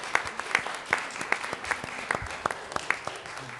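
Scattered applause from a small city council meeting audience in Brigantine, a sparse few pairs of hands clapping unevenly and fairly faint, with no voices over it.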